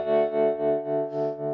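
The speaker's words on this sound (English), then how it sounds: "let's leave the tremolo on, play with some gain settings" Electric guitar played through a Carr Bel Ray amp with tremolo engaged and gain turned up, sustaining a distorted chord that pulses in a steady rhythmic throb, upfront and alone.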